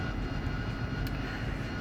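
An AV-8B Harrier jet engine roaring at full power for a short runway takeoff in the DCS flight simulator game, a dense, steady, loud rumble with a hiss that fills the whole moment and has no voices over it.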